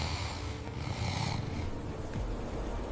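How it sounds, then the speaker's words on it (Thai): Sleeping soldiers snoring in an army camp at night, a steady low rasping drone over soft wind-like noise, with no talk. "เสียงกรนของทหารที่หลับสนิท"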